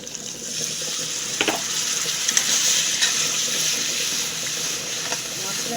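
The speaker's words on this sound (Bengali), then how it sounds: "হালকা জল দেবো" Water poured into masala of turmeric, dried chilli, cumin and coriander powders frying for a chicken dish, giving a steady close gush and hiss with a few small spatters.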